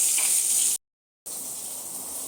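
Hot oil frying on a home kitchen stove, a steady bright sizzle that cuts out abruptly for about half a second, then resumes at a slightly lower, even level.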